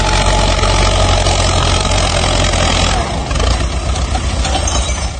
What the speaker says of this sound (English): A tractor climbs a slight incline, fighting to keep its balance.